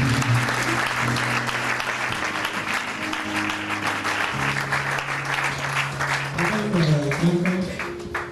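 A church congregation applauding steadily and loudly, a dense wash of clapping that continues throughout, with voices and some singing or calling mixed in underneath.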